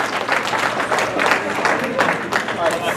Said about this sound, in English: a round of applause for the social committee that made it the extra special season that it was